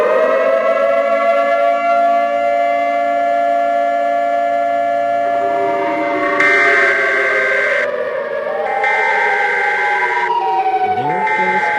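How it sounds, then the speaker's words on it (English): A civil defense siren from an animated EAS emergency scenario wails loudly and continuously, its pitch holding and then sliding, with a pulsing higher tone layered on top. "There goes the Chicago siren again."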